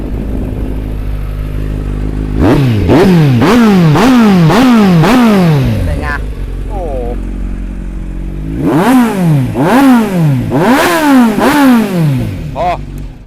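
A sport motorcycle engine is revved hard and close in two bursts of about five rising-and-falling revs each, separated by a few seconds of steady idle, loud and clear.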